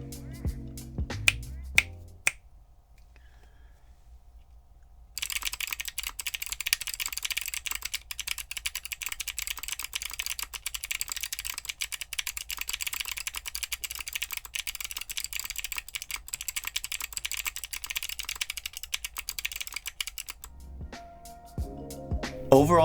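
Crisp, rapid clicky typing on Chosfox Arctic Fox switches, greased and lubed, a steady close-up clatter of keystrokes running for about fifteen seconds after a brief quiet start, with a few isolated clicks at the beginning and end.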